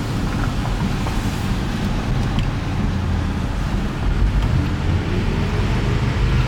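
Porsche 958 Cayenne Turbo with a secondary catalytic converter delete accelerating in first gear, heard from inside with the windows down as a continuous deep engine roar mixed with rushing wind noise.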